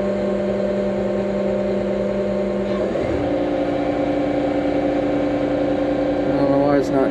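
A bulldozer engine holds a steady, loud mechanical drone at high revs without dropping, its pitch shifting slightly partway through.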